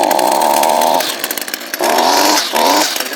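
An Echo SRM225 string trimmer's small two-stroke engine runs close and loud, revving in bursts with dips between as the throttle is blipped, no talking.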